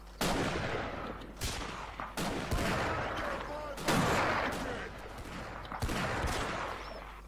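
Gunfire in a Blood & Iron video game line battle: several sharp musket shots at irregular intervals, some close and loud, others more distant, with faint talk in the background.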